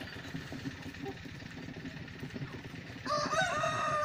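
Roosters and hens in a chicken run: a steady murmur of clucking and scratching, then a loud, close rooster crow breaks in during the last second.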